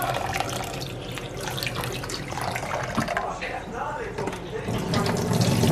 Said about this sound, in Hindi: दाल धोकर डाल देते हैं।